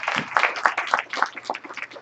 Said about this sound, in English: if you'll give them one last round of applause